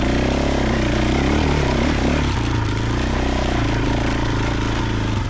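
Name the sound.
Triumph TF450E motorcycle engine braking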